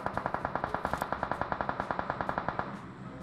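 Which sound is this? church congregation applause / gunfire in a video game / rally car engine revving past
gunfire in a video game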